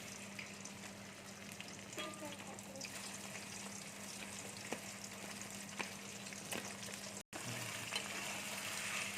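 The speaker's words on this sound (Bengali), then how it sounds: "আমি ভেন্ডিগুলো যে কেটে রেখেছিলাম, ভেন্ডিগুলো এবার আমি ভেজে নেবো" Okra fries in hot oil, giving a continuous, even sizzling hiss that stays fairly soft throughout, with only a brief click partway through.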